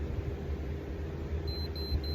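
A handheld electronic meter gives a few short, faint, high-pitched beeps in a quick regular series near the end, over a steady low room hum.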